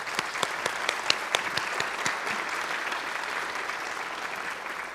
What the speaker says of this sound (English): Can I get a round of applause for both Amanda and Anne?